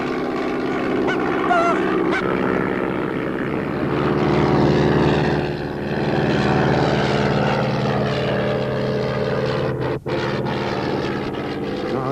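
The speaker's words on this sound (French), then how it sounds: "Un avion au-dessus de nous qui nous mitraille." A propeller airplane drones loudly and steadily overhead in a radio drama, with a continuous engine roar that swells and eases over twelve seconds.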